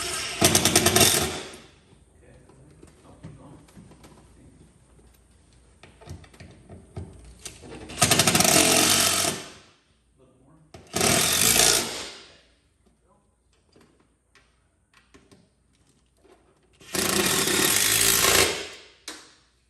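Power tool tightening bolts while installing a rear two-seat kit on a Pro R, three loud bursts of whirring and rattling impact separated by quiet gaps with faint shuffling.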